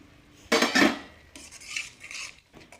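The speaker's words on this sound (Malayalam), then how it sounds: "വിട്ട് കൊടുത്തതിന് ശേഷം നല്ലതുപോലെ ഇളക്കാം" A spoon stirs semolina upma in a pan, giving close scraping and clattering strokes in two short bursts separated by brief pauses.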